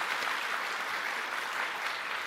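Applause from the audience at a European conference of data protection authorities, a steady, fairly soft roll of many hands clapping for about two seconds with no voices over it.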